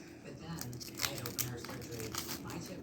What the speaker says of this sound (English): I'm going to peel it.